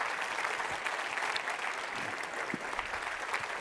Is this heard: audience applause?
yes